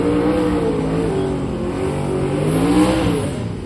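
An orange Chevrolet Nova drag car accelerates hard at Drag Week 2023, its engine roaring loud and close with rising harmonic sweeps as it pulls down the strip, continuous for the whole stretch with no talk.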